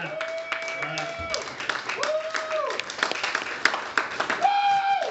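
An audience claps for a comedian at a stand-up show. The applause is moderate and runs under loud, animated voices talking over it.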